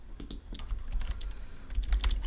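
Typing on a computer keyboard while entering text in a coding lesson, a quick run of close, crisp key taps over low background rumble.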